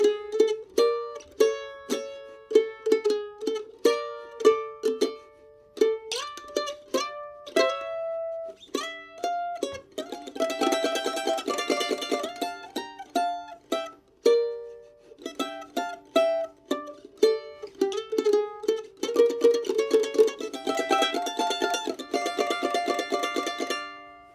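Mandolin playing the tune Dark Eyes with double stops, bright plucked notes and tremolo-picked passages, played solo and close with clear pauses between phrases.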